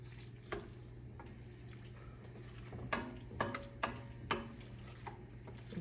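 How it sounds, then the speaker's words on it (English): Spoon stirring tomato paste sauce in a one-pot hamburger dish, soft scraping against the pot with several brief clinks near the middle, over a steady low hum and faint sizzle. "I'm just gonna keep stirring that a little bit, making sure the tomato paste is ground up"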